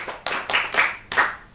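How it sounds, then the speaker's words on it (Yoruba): Audience clapping for a song's writer, a few short bursts of hand claps in quick succession, close and fairly loud, with no talk. "Ẹ pàtẹ́wọ́ fún ẹni tó kọ orin yìí fún wa, ẹ pàtẹ́wọ́ fún un"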